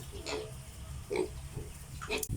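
Pigs in a backyard piggery grunt and oink in three short bursts, close and moderately loud against a steady farm background.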